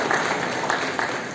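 An audience applauding at an evening public information meeting about wind turbines in Väike-Maarja, Estonia, steady dense clapping from a crowd filling the whole moment.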